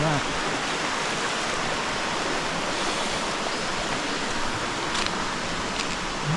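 Steady rain falling on a campsite in the early morning, a continuous even hiss of drops with no breaks, moderately loud and close.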